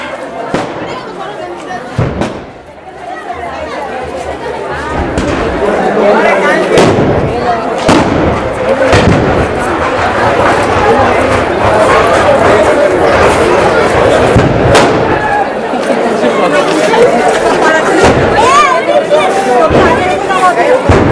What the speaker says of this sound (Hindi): आप देखिए आगे पटाखों की, बंदूकों की जो गड़गड़ाहट है वो स्टार्ट हो गई मीनार के अंदर।